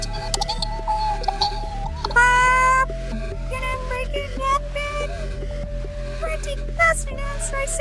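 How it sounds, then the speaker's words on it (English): A cat gives several distinct, close meows, some drawn out and tonal, with a voice talking intermittently underneath. "A baffled cat didn't expect to be completely outsmarted by a careless bird."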